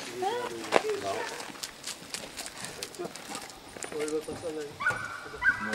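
Hunting dogs bark and whimper in short bursts amid a busy room on a woodcock hunt in Canada, with people talking throughout and a few sharp yips standing out.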